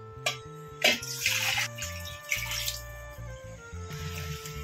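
Water is poured into a pot of ridge gourd and lentil sambar mixed with sambar powder, giving a few splashing gushes that rise and fade over steady background music.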